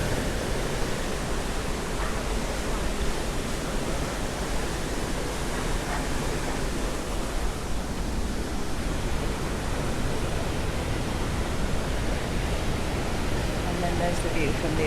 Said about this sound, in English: You can hear me above the sound of the water.